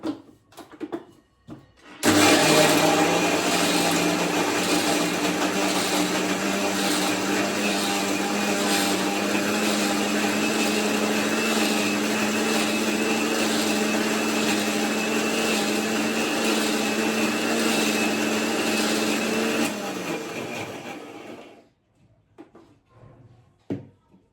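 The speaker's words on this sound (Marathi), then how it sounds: "हे सगळं मिक्सरमधून काढते." A mixer grinder blends rajma gravy of cooked kidney beans and vegetables, its loud, steady whirring starting abruptly and running for about eighteen seconds before winding down to quiet.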